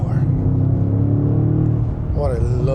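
A 2025 BMW M5 G90 drones with a deep, bassy engine overrun, a steady low rumble from inside the cabin, ending with a rising whine as a voice talks over it.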